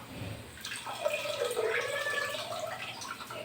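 Water splashes and trickles as it is poured into a pot for rasam in a home kitchen, a soft, close, steady pour lasting a few seconds with no talking.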